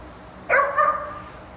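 A five-month-old dog lets out a single short bark followed by a brief trailing yip, close and fairly loud in a quiet room.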